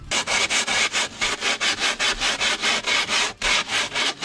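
Styrofoam insulation board being sanded by hand during a camper build on a 1973 Volkswagen Type 2, close and steady, with rapid regular back-and-forth rasping strokes, about four per second, continuing without pause and with no talking.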